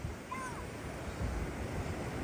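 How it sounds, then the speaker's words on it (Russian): Ocean waves wash and recede over the sand of Haukland beach in Lofoten, Norway, a soft continuous surf hiss mixed with gentle wind, fairly faint, with a brief high whistle early on. "Вот смотрите, когда волна откатывает"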